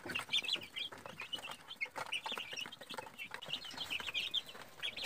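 Free-range caipira chickens cluck and chatter steadily through the whole stretch, several birds overlapping at close range with an occasional flutter of wings and no talk.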